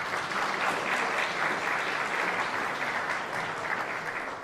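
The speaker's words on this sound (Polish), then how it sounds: "Wielci brawa." An audience in a community culture house applauds at a recitation contest, a steady, full wash of many hands clapping together at an even level throughout.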